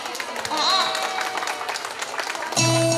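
An audience claps for a children's dance performance at a kindergarten arts show, a steady wash of clapping under an announcer's voice, with music swelling in near the end.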